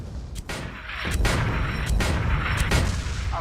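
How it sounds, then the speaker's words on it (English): Mortar fire in the Guns of Icarus Alliance video game: a series of about five heavy booming shots at a steady pace, loud and close over a continuous rumbling background. "Get on the mortar and finish the piece of junk off."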